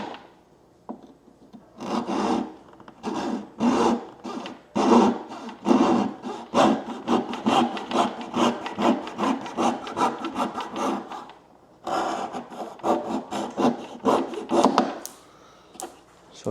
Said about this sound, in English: just using a razor saw.